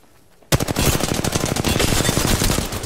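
A sudden burst of rapid automatic gunfire hits the player in a video game, close and loud, a steady stream of shots that keeps going without a break.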